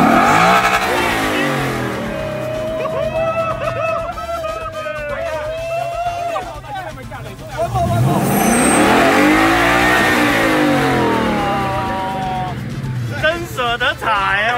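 A car engine revs hard and accelerates, loud and close, with the pitch rising and falling through repeated surges and a tyre squeal near the end, while people talk and shout over it.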